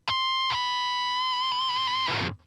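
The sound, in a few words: electric guitar pinch harmonic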